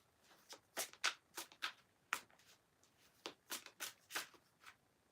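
Tarot cards being shuffled, close and quiet, in a string of short riffling bursts with small pauses between them and no speech.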